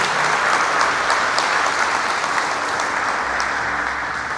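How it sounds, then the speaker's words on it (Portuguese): A church congregation claps steadily in a dense, even wash of applause that holds at one level for several seconds, with no voices standing out. "Você pode dar uma linda salva de palmas ao Senhor."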